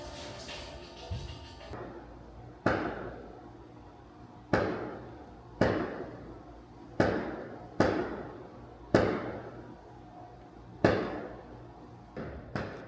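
Fireworks burst outdoors in Cartagena, Colombia: about seven sharp, fairly distant bangs at irregular intervals, each trailing off in a short crackling decay, with no talking.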